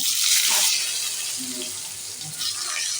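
Potatoes dropped into hot oil with panch phoron, spiced for a drumstick vegetable curry, give a loud, steady sizzling hiss right up close. It eases slightly after the first moment, and faint speech sits beneath it.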